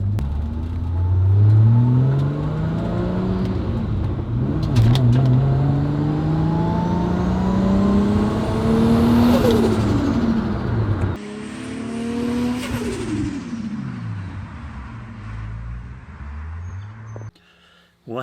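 A fully built 2JZ engine in a Toyota Supra MKIV revs hard during a boost pull, loud and close. Rising and falling engine tones sweep up through several long climbs, with a gearshift-like break near the end and no talking.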